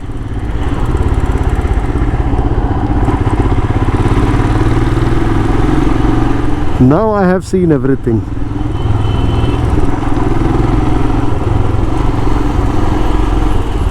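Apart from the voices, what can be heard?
Hero Honda motorcycle engine running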